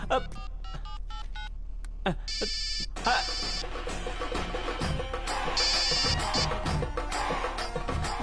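An electronic phone ringtone trills in short, repeated bursts over a busy, cluttered background.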